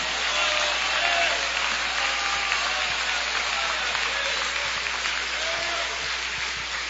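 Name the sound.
church congregation clapping hands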